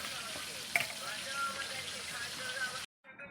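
Large pieces of a 3.5 kg American rohu fish sizzle and crackle steadily in hot oil in a home kitchen pan, with one sharp clink of a utensil before the sound cuts off near the end.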